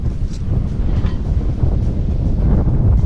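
Strong wind buffets a sailboat at sea on a broad reach in about 22 knots, a loud, continuous roaring rush with gusty swells, close to the microphone and no voices.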